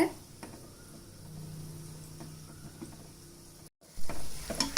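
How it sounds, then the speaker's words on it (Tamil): Gulab jamun frying in hot oil while being turned: a low, steady sizzle with faint stirring scrapes, a brief dropout, then a louder burst near the end. "எல்லா பக்கமும் ஈவனாக ஃப்ரை ஆகிற அளவு இதை கொஞ்சம் நீங்கள் திருப்பி விட்டுக்கோங்க"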